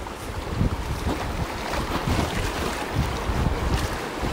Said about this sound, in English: this is the best rapid in this stretch